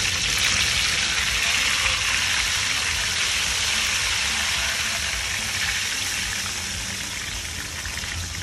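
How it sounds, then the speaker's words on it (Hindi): An ice cream cutlet filled with Rajbhog ice cream deep-fries in hot oil with no batter at a street stall in Surat, Gujarat, giving a loud, unbroken, bubbling sizzle that holds steady throughout. "कटलेस हमारी डायरेक्टली फ्राई होती है, उसको कोई बैटर में नहीं डालते, सीधी फ्राई होती है"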